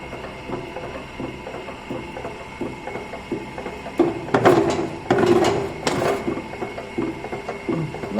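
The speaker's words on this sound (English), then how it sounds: "We have started the hydraulic power hacksaw." A hydraulic power hacksaw runs in a fitting workshop, its blade cutting a workpiece held in a vise with a steady rhythmic mechanical clatter and ratcheting strokes, growing louder in the middle, with no talk.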